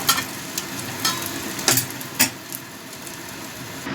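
Bhetki fish paturi frying in a covered pan, a soft steady sizzle with a few brief louder crackles and pops, close and without speech.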